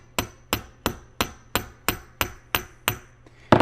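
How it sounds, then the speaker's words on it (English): Nine evenly spaced metallic hammer blows drive cold dowel pins into the hub of a Ural CV driveshaft, each sharp ringing tap decaying quickly, close and clear without talk. "And very gently drive them home"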